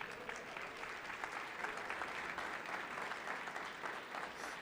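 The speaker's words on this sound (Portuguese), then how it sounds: "Vamos aplaudir a Luzia." A church congregation applauding Luzia, one of the community's founders, in a steady, even round of clapping throughout, moderately distant and fairly soft.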